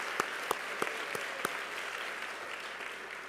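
Applause for athletic trainers at a school sports awards ceremony, a steady crowd patter with a few sharp louder claps standing out early on, fairly distant and filling the room.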